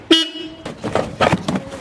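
Car horn giving one short, loud honk at close range, followed by someone talking and faint handling noises.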